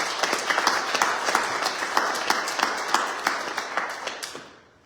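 A church congregation applauds during a Sunday service, dense steady clapping from many hands with sharper individual claps standing out, fading away at the very end.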